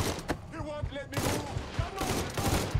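Automatic rifle fire crackles from behind cover in Mafia 3, rapid dense bursts of shots in several volleys, with a voice briefly audible between them.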